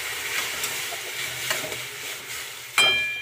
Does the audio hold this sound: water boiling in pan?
yes